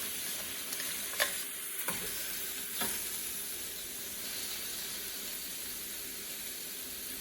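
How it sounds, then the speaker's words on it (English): Chicken pieces sizzle steadily in a hot pan, with a constant frying hiss and a few sharp scrapes as the meat is stirred and lifted from the bottom. "You want them to go ahead and cook a little bit on the bottom so they'll free themselves up from the pan."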